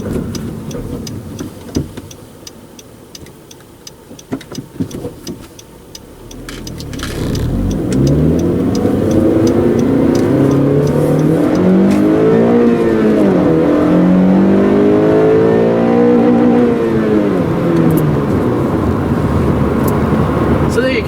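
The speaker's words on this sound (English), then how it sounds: "See just how smoothly and how quickly the engine revs up" After a quiet idle with faint clicks, a 2014 Honda Civic Si engine revs up loudly, climbing in pitch repeatedly as it shifts through gears, heard from inside.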